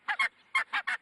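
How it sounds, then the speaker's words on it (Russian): Two ruddy shelducks at a zoo giving loud, nasal honking calls close by, five quick honks in two bursts in about a second. "Это огори, парочка огорей."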